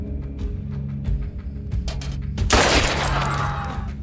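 Gunfire rings out in a film scene with a pistol, several sharp shots over a low music bed, then a heavy loud burst that rolls on.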